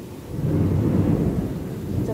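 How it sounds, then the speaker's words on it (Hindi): Heavy thunder from a thunderstorm rumbles low and loud for about two seconds, building and then holding, heard from indoors with a faint wash of rain and no talking. "बहुत जोरों शोरों से बिजली कड़क रही है"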